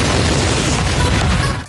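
A loud, dense blast rumbles through as drone-dropped munitions strike a residential building held by troops near Toretsk in eastern Ukraine, a sustained broadband roar that tails off at the end.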